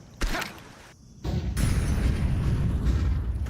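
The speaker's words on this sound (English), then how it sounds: "XSC's setting up the flashbangs here." Flashbang grenades bursting in a Counter-Strike esports final: a sharp pop, then a heavy, rumbling blast that fills the rest of the moment.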